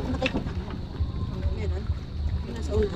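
A crabbing boat's large engine rumbles low and steady at sea, with gusts of wind against the microphone and people talking over it.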